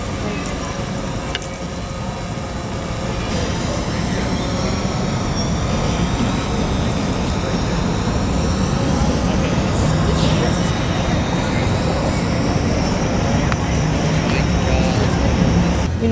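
A drone flying overhead gives a steady buzzing drone with whining harmonic tones that rise and fall, loud and continuous, while people talk over it.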